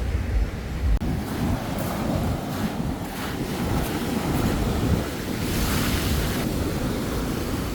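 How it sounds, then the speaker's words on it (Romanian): Ocean waves wash in a steady roar on Pandawa Beach in Bali, where the surf is large and the sand is coarse, almost fine gravel. Wind buffets the microphone throughout, and no one speaks. "Suntem pe Pantai Pandawa Beach."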